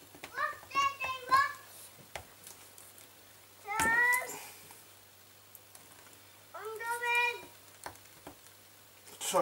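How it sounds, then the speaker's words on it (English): A two-year-old and his brother play at a distance, letting out three bursts of high, squealing, sing-song calls separated by quiet pauses, with a faint steady tick in the room. "you can hear my little 2-year-old in the background playing with his brother"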